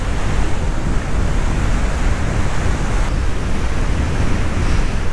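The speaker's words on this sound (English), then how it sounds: "It's just a very sweet beach." Ocean surf rolling steadily onto the beach at South Padre Island on the southern Texas coast, a continuous broad wash of breaking waves with some wind buffeting the microphone, loud and close with no voices.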